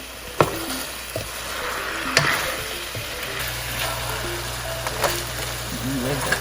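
Onion frying in a pan with browning for Dominican-style chicken stew, a steady sizzle broken by a few sharp clinks and stirring knocks.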